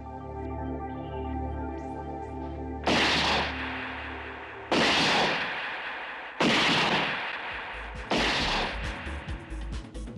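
A bullet fires in four loud, sharp gunshot blasts spaced about two seconds apart, each ringing briefly over a steady musical backdrop.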